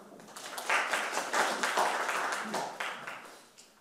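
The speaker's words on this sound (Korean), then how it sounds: "큰 박수 부탁드립니다" Applause from a forum audience, a steady patter of many hands clapping at moderate volume for a few seconds, with no voices over it.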